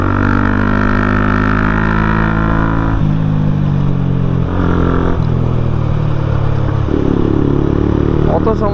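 An Apache RTR 160 4V motorcycle with a cut, modified exhaust revs loudly and close, its deep engine note rising and falling in several throttle blips with a rumbling bass.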